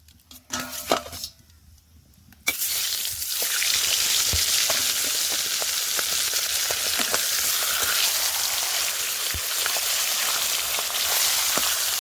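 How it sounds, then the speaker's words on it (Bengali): Two fish heads drop into hot cooking oil, and after a few quiet seconds a loud, steady sizzle starts and keeps roaring with faint crackles, close up. "আমি মাছের মাথা দুটো ভেজে নেব ভালো করে"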